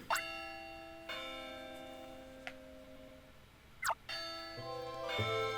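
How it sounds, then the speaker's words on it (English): Chiming school bell from the Pokémon Ranger: Shadows of Almia video game, two clear ringing bell strikes with sustained tones over a soft game music backdrop, no talking. "Ding dong, ding dong. There goes the bell."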